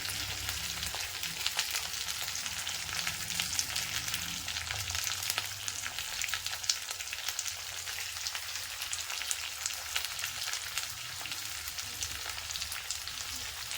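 Onion and curry leaves sauté in a hot pan with a steady, dense sizzle and crackle, close and continuous with faint stirring, no talk.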